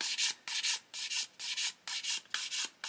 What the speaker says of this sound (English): I'm going to carry on sanding here where this lump of super glue is